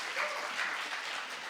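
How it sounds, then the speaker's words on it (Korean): A congregation at a Sunday church service breaks into brief applause: a steady, soft wash of many hands clapping for under two seconds, heard alone without any talk. "박수 안 칩니까?"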